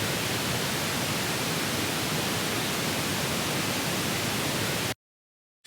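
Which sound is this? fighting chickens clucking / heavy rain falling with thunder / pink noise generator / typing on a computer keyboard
pink noise generator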